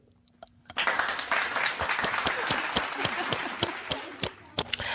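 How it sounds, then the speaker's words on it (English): Loud applause from a crowd on a show, starting abruptly after a brief quiet moment and holding dense for several seconds with sharp individual claps standing out near the end. "y'all play a clapping track on that?"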